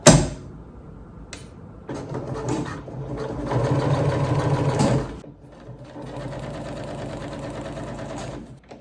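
A sewing machine stitches across fabric near a seam in bursts: a short run, a pause, then longer stretches of rapid steady whirring and ticking that stop and start, close and clear with no talk.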